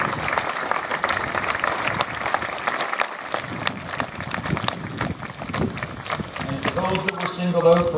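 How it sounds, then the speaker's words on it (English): Audience applause for cadets at a summer parade, a dense crowd clapping steadily and loudly throughout, with wind noise on the microphone and a voice talking near the end. "Another round of applause."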